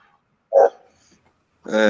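A dog gives a short single bark, then a louder bark or yip a second later, both close and separated by silence, with speech present.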